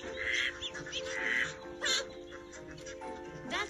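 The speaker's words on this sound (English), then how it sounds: "Ducks talk to each other by quacking" Ducks quacking in short, nasal bursts, several calls spaced across the clip against a faint outdoor background.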